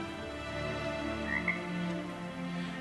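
Frogs croaking in the video game Rime, a continuous low ribbed chorus with steady ambient game tones, no voice over it.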